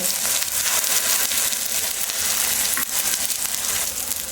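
Spices and ground tomato frying in hot oil for a suran (elephant foot yam) curry, a loud, continuous dense sizzle with occasional stirring scrapes throughout, no talking.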